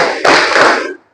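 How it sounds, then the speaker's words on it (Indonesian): Loud clapping from a group doing an Indonesian 'tepuk semangat' spirit clap in a school lesson, with a sharp strike of many hands followed by a short, dense, crackling run of claps that stops abruptly. "Kita tepuk semangat dulu."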